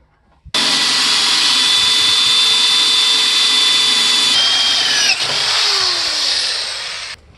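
A loud, steady power drill whines continuously for several seconds drilling through metal on a 1979–2004 Ford Mustang torque box, its pitch dipping slightly near the end before stopping abruptly.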